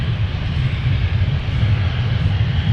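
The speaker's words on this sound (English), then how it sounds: "taking another look at our Metroliner touching down from Thief River Falls" A Metroliner turboprop airplane touching down at MSP airport, a steady loud low engine roar and rumble that holds evenly throughout with no voices.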